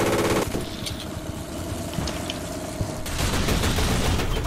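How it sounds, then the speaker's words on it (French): Artillery barrage in War Thunder, a dense rumbling of rapid blasts and engine drone that swells louder and harsher in the final second and a half, with no voices. "je me prends un barrage d'artillerie"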